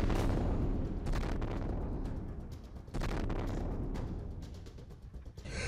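Bomb blasts and missile explosions in Kyiv, a dense roar of heavy booms and crackling bursts that fill the scene almost continuously, with sharper hits standing out around the middle and near the end.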